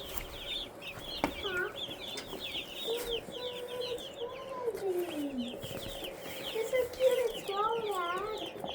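A crowd of meat chicks in a brooder clucks and peeps continuously, their overlapping calls filling the space at close range.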